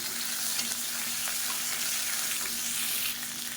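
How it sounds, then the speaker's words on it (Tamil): Onion and garlic sautéing in a pan for a Tamil side dish, a steady soft sizzle and crackle close by, alone without talk. "இப்போ வெங்காயம் பூண்டு ஓரளவுக்கு நல்லா வதங்கிடுச்சு பாருங்கள்"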